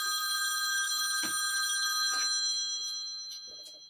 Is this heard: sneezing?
no